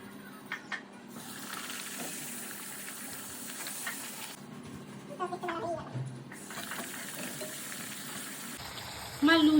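Luchi puffing in hot oil crackles and sizzles steadily at close range, with soft clinks from stirring and a louder burst of bubbling right at the end.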